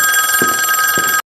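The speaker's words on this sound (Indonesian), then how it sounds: "Telepon berdering" A telephone rings in a tense drama scene, with a steady electronic ring tone that cuts off abruptly after about a second.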